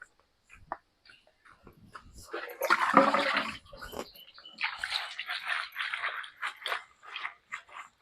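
Fresh spinach leaves are swished and rinsed in water, with splashing and sloshing in irregular bursts, close up and moderately loud, with short pauses between.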